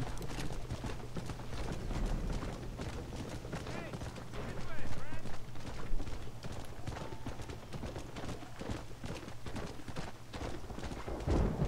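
Horse hooves in the video game Red Dead Redemption keep up a steady, continuous clip-clop of riding, blended with dense game ambience and sound effects throughout.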